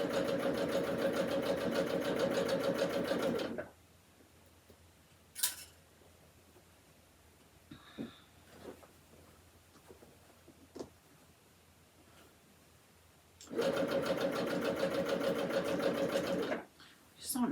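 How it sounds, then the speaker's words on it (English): A home sewing machine stitches a quilt in two loud, steady bursts of rapid mechanical whirring at the start and end. Between the bursts come a quiet stretch with small clicks and a few spoken words. "You can tap it once with the foot pedal and the needle goes up, and then you tap it again and the needle goes down."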